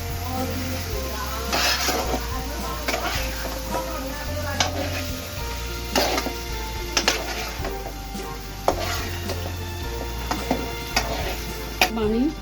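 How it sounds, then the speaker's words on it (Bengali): A utensil stirs and scrapes through food in a pan, with repeated sharp clinks and a low sizzling bed underneath, close up. "ওইদিকে ভাজা হয়ে গেছে, উল্টে দিব।"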